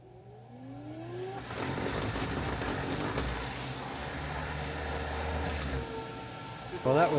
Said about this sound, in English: Got to run some power to the blowers and we'll blow up the airbags